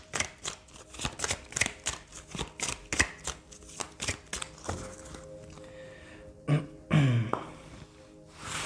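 Tarot cards being shuffled make a rapid run of crisp, close riffling taps for several seconds, followed by softer card handling and a few louder knocks.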